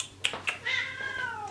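Cats fighting indoors, with two sharp yowls followed by a drawn-out, rising and falling meow, moderately close.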